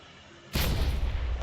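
Grenade explosion in Minecraft: a single loud booming blast bursts in suddenly after a quiet moment and rumbles on to the end, with no voices.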